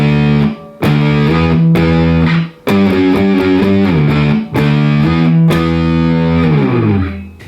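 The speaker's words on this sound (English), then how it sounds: "Now we're jumping into the main riff played with power chords." Heavy distorted electric guitar hammers out the main riff in power chords, loud, chunky stabs and sliding chord changes in a steady stop-start rhythm, with brief gaps between phrases.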